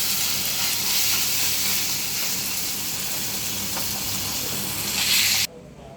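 Steady, loud sizzling of chicken frying in hot oil in a pan, close up and continuous, cutting off abruptly near the end.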